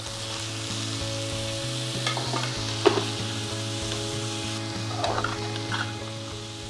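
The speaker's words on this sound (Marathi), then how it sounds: "आता हे आपण टाकलेल्या सगळ्या भाज्या एकसारख्या परतून घ्यायच्या" Mixed vegetables with beetroot sautéing in a pan for pav bhaji: a continuous close sizzle with occasional scrapes and knocks of a stirring spoon, under a steady low hum, no talking.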